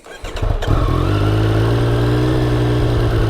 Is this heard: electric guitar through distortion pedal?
no